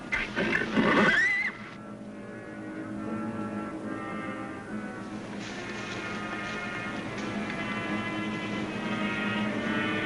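A horse lets out a loud, quavering whinny at the start, followed by a low sustained drone with faint background noise.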